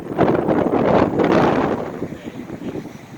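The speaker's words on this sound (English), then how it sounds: "it's really windy out here" Strong wind buffets a microphone outdoors behind a closed-down restaurant and ice cream shop, a loud low rumbling roar that swells and eases in gusts with no other sound.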